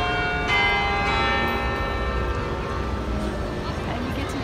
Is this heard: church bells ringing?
yes